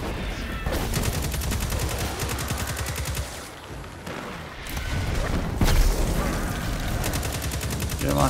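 Rapid automatic rifle fire in Destiny 2 rattles out in dense, fast bursts. A brief lull comes midway before the shooting resumes, with a heavy boom near the end.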